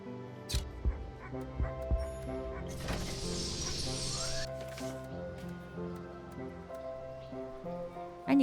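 Dog barking and whimpering in the video game Wytchwood, a few sharp yips and barks followed by softer whines, heard over a layered game music score with a brief rising whoosh in the middle.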